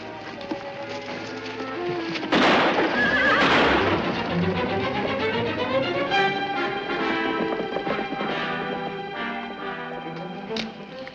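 A horse lets out a loud, drawn-out whinny that rises and trails off in shaky pulses, close and clear against a quiet outdoor background.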